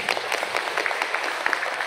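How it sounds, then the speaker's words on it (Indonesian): Audience of teachers clapping together at a school Youth Pledge event, a dense steady burst of many hands applauding throughout, fairly close and even in loudness. "Coba tepuk tangan dulu"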